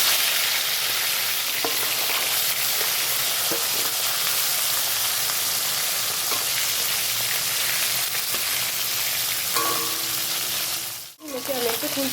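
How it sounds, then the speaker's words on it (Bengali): Hilsa fish heads frying in hot mustard oil in a wok, a loud continuous sizzle with occasional pops and spatters, followed near the end by a brief clatter and a short flurry of bubbling. "কড়াইতে আমি ইলিশ মাছগুলো ভাজবো।"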